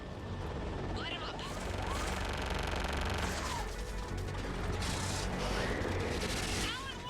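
Gunship weapons pound ground targets in Mass Effect 3, a dense, continuous barrage of heavy fire and blasts filling the whole stretch, loud and close, with voices and radio chatter running over it.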